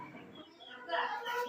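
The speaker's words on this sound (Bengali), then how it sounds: "তো এইগুলো হচ্ছে আমার ব্রাহ্মা মুরগি। এটা হচ্ছে কলম্বিয়ান ব্রাহ্মা" Colombian Brahma chickens cluck faintly in brief, soft calls, heard close by in a quiet setting.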